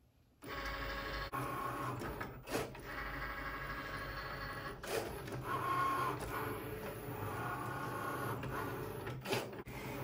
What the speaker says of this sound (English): I can click the flashing Cricut button, and now it's going to cut out the design